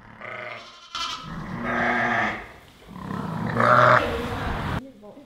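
Sheep bleating on Tolødegård farm: several loud, wavering bleats from a large flock, close and overlapping, one rising into a strained cry near the end, with no talking.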